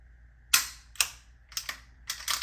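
M9 pistol fired at an outdoor shooting range, several sharp reports spaced about half a second apart, the later ones coming closer together, each heard at some distance with a quick fading tail.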